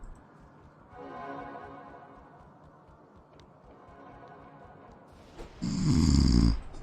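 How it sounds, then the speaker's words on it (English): An enemy in the Diablo 2 video game snores in slow, drawn-out breaths repeated a few times, followed near the end by a louder burst of game noise. "And we've got another snore."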